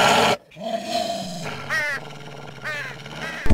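A cartoon crow caws in a Telugu children's animation, two raspy rising calls spaced over a background music bed, alongside a dog's growl.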